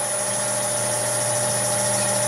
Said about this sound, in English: I'll have the lathe running at about 750 RPM